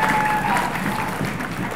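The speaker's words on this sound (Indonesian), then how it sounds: "tepuk tangan tentunya." Audience at a secondary-school quick-answer quiz competition in Indonesia applauds steadily, a dense even patter of many hands filling the room, with a faint tone and some voices mixed in.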